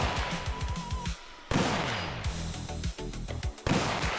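Rifle shots fired at a North Idaho multi-gun competition, a rapid string of loud, sharp cracks close by, each followed by a ringing outdoor echo, with brief pauses between bursts.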